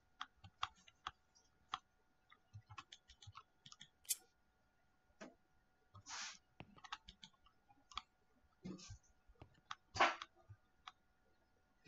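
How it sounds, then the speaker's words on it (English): A clock in a spooky house gives faint, sparse ticks and clicks against near silence, spread irregularly with a few louder knocks. "Just a clock."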